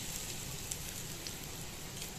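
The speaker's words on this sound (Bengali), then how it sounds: "এবার এই ফোড়নটাকে আমি ভালো করে ভেজে নেব।" Whole cumin seeds and a pinch of asafoetida sizzling in hot oil, a soft continuous crackling fizz with scattered tiny pops, steady and close.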